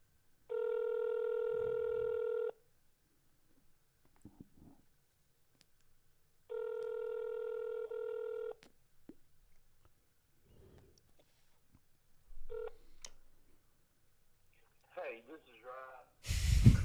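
A telephone call is placed: short dialing tones, then long repeated ringback tones in steady bursts with quiet gaps, followed by rustling and a brief voice near the end.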